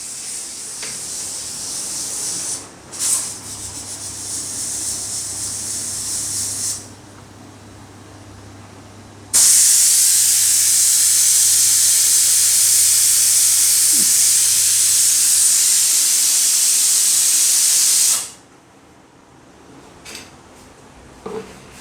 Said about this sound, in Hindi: अब कुकर सीटी नहीं मारेगा भाई।